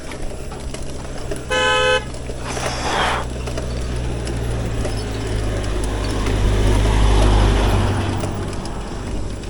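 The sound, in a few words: police car approaching on road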